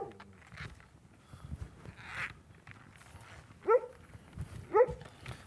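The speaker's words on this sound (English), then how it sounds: "Dog's being a guard dog." A guard dog named Major lets out two short, sharp barks a second apart, moderately close, over low outdoor rustle and faint movement at a horse-training yard.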